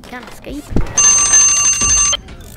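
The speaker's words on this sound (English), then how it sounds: "There goes the timer." An electronic timer alarm in the prison-management video game Prison Architect rings for about a second in a rapid, bright metallic trill, loud and close, with a voice talking just before and after.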